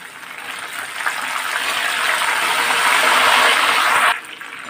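Turmeric and salt water pours steadily into a pan for banana wafers, a close gushing rush that builds for about four seconds and then stops abruptly.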